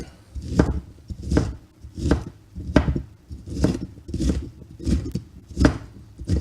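Knife dicing seedless peppers on a cutting board, about eight evenly spaced firm chops in a steady rhythm, close and clear, with no talk.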